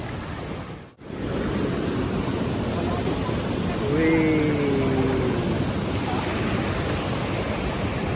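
River water rushes continuously along a trekking route by a river, a broad steady roar heard close throughout; a person briefly exclaims early on.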